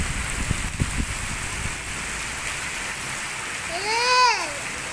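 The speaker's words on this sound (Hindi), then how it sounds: "भाई साहब अभी क्या ज़ोरदार बारिश हो रही है, एकदम मौसम बिल्कुल ठंडा हो गया है।" Heavy rain pours down steadily in cold weather, a continuous dense hiss with no break, and a brief rising whistle-like tone cuts through near the end.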